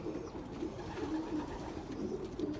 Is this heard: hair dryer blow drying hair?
no